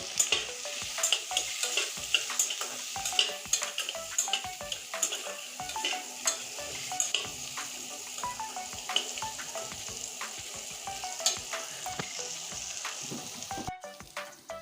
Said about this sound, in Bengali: এই দেখুন পেঁয়াজ আর ক্যাপসিকামের কাঁচা গন্ধ চলে গিয়েছে